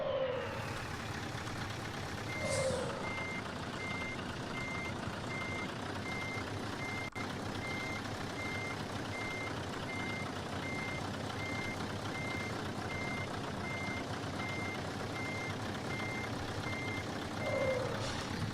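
A truck's reversing alarm in Euro Truck Simulator 2 beeps steadily at an even rhythm over a constant engine hum, heard alone without talk for the whole stretch.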